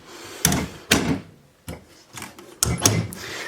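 A drawer in a home beauty room holding hair colour supplies is pulled open, giving a series of close wooden slides, thumps and rattles with short pauses between.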